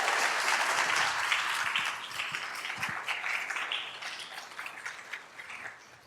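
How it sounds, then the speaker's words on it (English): An audience at a leadership talk claps in a sustained round of applause, dense and moderately loud at first, then gradually thinning and fading. "give a round of applause to Mr. Joe Davis once again"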